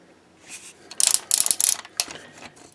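The ratcheted joint of a FansToys FT-03T Quakewave action figure, a Shockwave figure, clicks in quick close bursts of sharp mechanical ticks as the limb is moved, with no talking.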